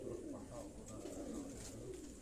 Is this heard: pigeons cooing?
yes